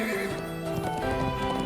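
A horse in the video game Trails of Cold Steel IV gives a loud, close whinny, its wavering neigh mixed with clopping hooves over a brief stretch of game sound.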